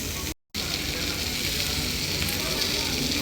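Japanese wagyu beef frying in a pan or on a grill, giving a steady, close, bright sizzle with soft crackles that runs almost the whole time apart from a brief dropout near the start.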